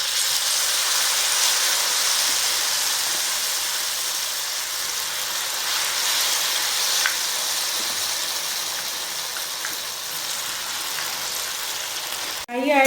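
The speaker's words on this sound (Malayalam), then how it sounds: "നമുക്കിത് കുറേശ്ശെ ഇട്ട് വറുത്തെടുക്കാം." Mushroom and cauliflower snacks deep-fry in hot oil, a steady, loud sizzling hiss that runs unbroken for several seconds before a brief clatter at the end.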